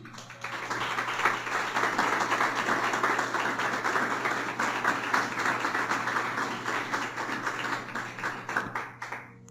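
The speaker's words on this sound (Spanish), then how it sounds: "¿Cuánto le dan un aplauso al Señor?" A church congregation applauds the Lord, a sustained room-filling patter of many hands clapping over a low steady hum, lasting several seconds before trailing off.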